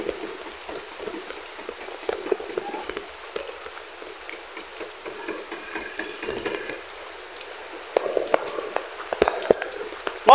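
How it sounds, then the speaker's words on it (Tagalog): Rain from Typhoon Uwan pours down steadily in heavy pattering and spattering sheets, with a faint gusty hiss. Scattered sharper knocks and drips grow louder near the end. "Talagang lakas talaga ng hangin eh"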